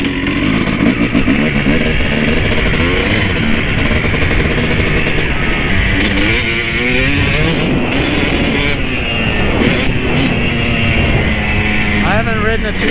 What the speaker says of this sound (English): we're riding Derek's 2005 KX250.